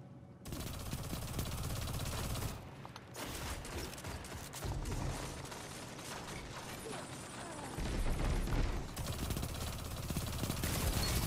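Bursts of rapid gunfire from the MIDA Mini-Tool weapon in the shooter game Destiny 2, loud dense volleys repeating with short gaps and mechanical clatter, no talking.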